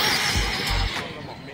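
A car engine revving at half throttle, a sustained close, loud roar with a brief low rumble, under a voice.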